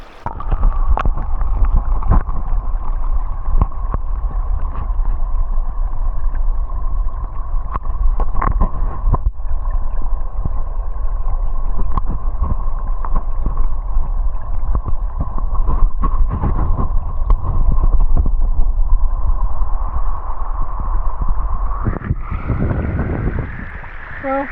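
Muffled, steady underwater rumble and hiss as a camera is dipped into cool water on a wild motorcycle trip, with faint clicks throughout and a brief splashing surge near the end as it comes out.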